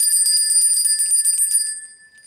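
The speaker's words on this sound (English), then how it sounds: "ring the bell on that" A small bell rings rapidly and continuously at a high, bright pitch, loud and close, for about a second and a half before it stops and fades to silence.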